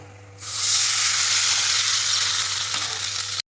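A katla fish head frying in hot oil gives a loud, steady sizzle that starts abruptly and keeps crackling evenly, with no voices.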